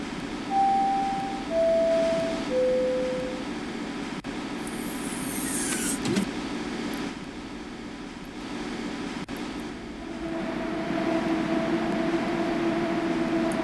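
A train runs through Spark City in a video game, with a steady low rumble and rolling drone, a few rising horn-like tones early on, and a brief sharp hiss midway.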